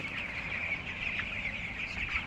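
A chicken clucks softly and repeatedly while being weighed on a farm, a close but low-level sound over steady background noise, with no talking.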